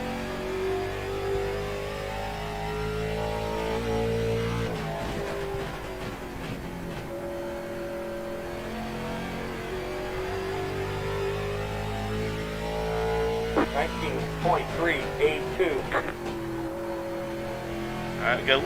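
A race car engine in the iRacing sim drones loud and steady through a lap, its pitch rising and falling with throttle, then revving sharply in quick bursts near the end.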